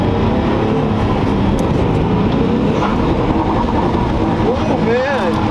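A twin-turbo Nissan 350Z at a Z car meet revs hard under acceleration, a loud continuous engine roar with rising pitch sweeps near the end, heard close and unbroken.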